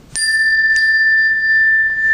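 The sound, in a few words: duo chime being struck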